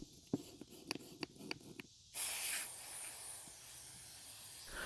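A worn brass brush scrubs a gummy carburetor bowl in a series of quick scratchy strokes, then a steady hiss of carb cleaner spray takes over, close and fairly faint.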